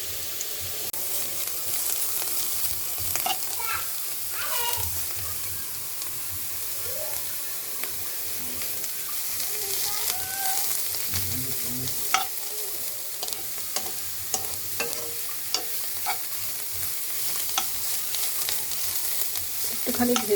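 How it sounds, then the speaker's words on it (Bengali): Grated bottle gourd frying in a pan for a milk-based gourd dessert, a steady close sizzle with scraping stirs and small spatters running throughout, no voices. "এবার লাউয়ের এগুলো ঢেলে দিচ্ছি। এটাতে আমি একটু ভেজে নিব।"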